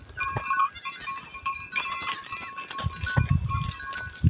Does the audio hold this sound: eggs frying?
no